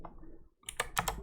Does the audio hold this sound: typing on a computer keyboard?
yes